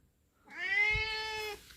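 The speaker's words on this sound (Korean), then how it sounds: "요놈은 길고양이 출신이고요." A former street cat gives a single long, rising meow, clear and fairly close, lasting about a second in an otherwise quiet room without speech.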